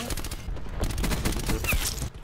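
Rapid gunfire in the video game Call of Duty Black Ops 4, a dense burst of repeated shots packed closely together, loud and continuous through the brief stretch.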